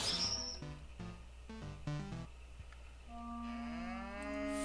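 A cow in a video game lets out a few drawn-out moos. They sound tonal and slightly wavering, come at a moderate level one after another, and there is no speech.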